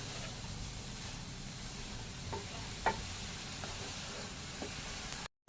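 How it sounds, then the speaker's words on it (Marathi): Grated carrot sautéing in ghee in a kadhai until its moisture cooks off, a soft steady sizzle with occasional light scrapes of stirring, close and fairly quiet. "ह्याच्यातलं पाणी निघून जाईपर्यंत म्हणजे हे कोरडं होईपर्यंत आपण आधी परतून घेऊया"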